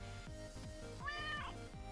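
A cat named Maka gives one clear, close meow over a faint repeating rhythmic background beat.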